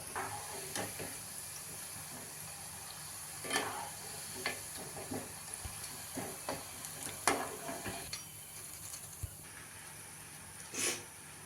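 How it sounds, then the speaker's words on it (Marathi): Sabudana (sago) snack balls deep-fry in oil with a faint steady sizzle, broken by soft stirring clicks and occasional louder scrapes. "आता याच पद्धतीने आपण पुढचे बॉल्स तळून घेऊया गुलाबजाम तळतो तसं हलवत हलवत तळायचं"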